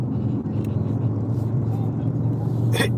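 A big motorcycle, a hog, rolls past in traffic, heard from a nearby vehicle as a steady, deep engine rumble that stays loud throughout, with a brief brighter burst near the end.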